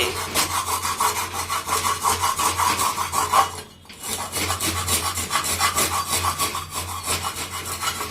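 A dirty cast-iron dosa tawa is scrubbed hard in fast back-and-forth strokes, making a loud, continuous, gritty rasping. It stops briefly midway and then resumes with no speech.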